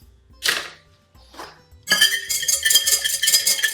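An egg being whisked in a bowl: a couple of short taps first, then a quick, continuous rhythmic clinking of the whisk against the bowl, close and fairly loud.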